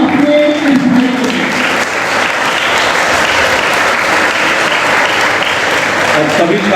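Loud sustained applause from an audience honouring a student at an award ceremony held at MG Inter College, an even wash of clapping lasting throughout, with a voice briefly speaking at the start.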